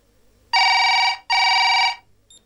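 A telephone bell rings loudly twice in close succession, each ring a sustained buzzing trill of about three-quarters of a second, followed by quiet.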